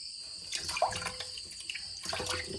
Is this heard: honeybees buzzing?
no